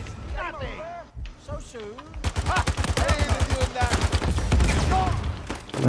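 Gunfire crackles in Uncharted 4: A Thief's End, a rapid run of shots right after a pause, mixed with loud excited talking over the action.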